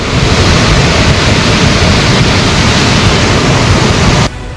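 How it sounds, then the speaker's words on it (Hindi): A steady, loud roar of rushing flood water from a cloudburst in the Uttarakhand hills fills the whole clip without pause, dense and continuous like a torrent, then drops off sharply near the end. "पहाड़ पर हर तरफ गरजती लहरों की गूंज सुनाई दे रही है"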